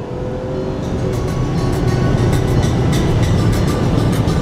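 A Volkswagen Passat accelerates on a highway, its engine and road roar loud and steady from inside the cabin, building slightly in intensity with no voices.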